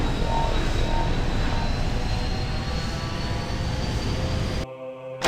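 A starfighter departing in a Star Wars video game, heard as a loud, steady engine roar with a thin high whine that cuts off abruptly near the end.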